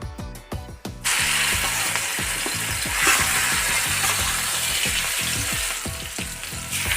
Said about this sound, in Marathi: तेलामध्ये ठेचा व्यवस्थित असा फ्राय झालेला आहे